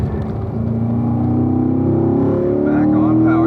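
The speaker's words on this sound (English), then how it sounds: "And then downshift to 3rd here." Corvette engine on a road-racing track as the driver downshifts to third gear, a steady loud drone with rising harmonics from the exhaust and drivetrain, heard from inside the car under a voice talking.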